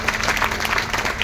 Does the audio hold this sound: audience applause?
yes